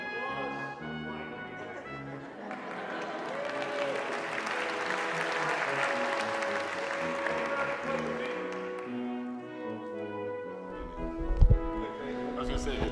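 An audience at a conference bursts into applause that builds over a couple of seconds, holds as a full, loud round, then tapers off, with a voice carrying over it throughout.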